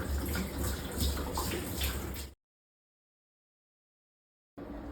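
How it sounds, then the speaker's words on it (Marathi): Water collected in a clothes dryer's box is poured out, a steady close splashing gush for about two seconds, then silence before the pouring resumes briefly. "आता हे पाणी ना ओतून घेऊया"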